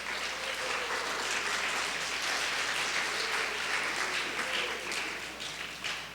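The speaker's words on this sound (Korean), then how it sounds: "우리 축하의 박수 이렇게 보내드리도록 하겠습니다" A church congregation applauds in congratulation of a soon-to-be-married couple, a steady wash of many hands clapping at moderate distance, sustained throughout and easing slightly near the end.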